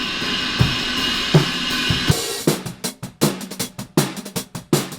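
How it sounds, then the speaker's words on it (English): Cymbals in a drum mix before mixing sound harsh and washy, with a sustained bright wash over thumping drum hits, then sharp, crashing cymbal strikes among tight drum hits later on. "If your cymbals are sounding like this,"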